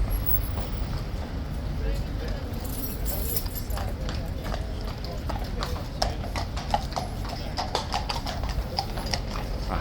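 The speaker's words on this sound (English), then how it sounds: "my money's on it being a horse that was here Monday returning" Horse hooves clip-clopping on pavement at Horse Guards in London, a steady run of clear hoof strikes at moderate distance, with crowd murmur and talk in the background.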